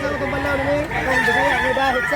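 Roosters crow amid clucking fowl at a busy chicken market in Mantalungon, Barili, the calls overlapping loudly and close with crowd chatter underneath.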